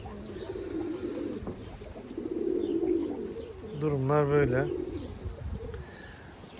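Pigeons coo softly in a short burst, heard beneath a man's speech and some background chatter.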